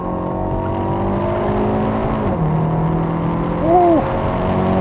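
A 2021 Hyundai Veloster N with an 8-speed dual-clutch transmission accelerates in N mode, its engine drone climbing steadily, dropping sharply at a quick upshift, then rising again from inside the cabin.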